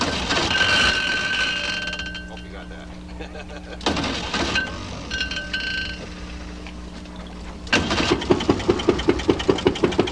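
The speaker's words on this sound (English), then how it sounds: "This is the electric start St. Lawrence engine." A vintage St. Lawrence boat engine with electric start runs with a steady low rumble, and a burst of rhythmic mechanical chugging swells near the end, all under ongoing talk.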